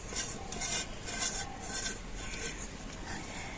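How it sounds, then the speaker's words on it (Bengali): Soft repeated scraping strokes of a brush spreading white oil inside a cake tin, close and quiet, with a regular back-and-forth rhythm. "একটা ব্রাশ দিয়ে তো সাদা তেলটা কিন্তু খুব ভালো করে এই কেক টিনটার মধ্যে ব্রাশ করে দেবো"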